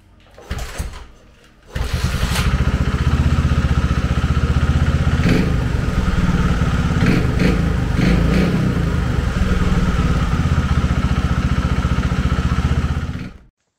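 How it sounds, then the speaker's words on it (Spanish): A Montesa 4RT trials motorcycle fires up for the first time with a new exhaust: a brief cranking, then a loud, close, steady thumping idle with a few throttle blips, running alone until it shuts off. "El primer arranque con el escape nuevo."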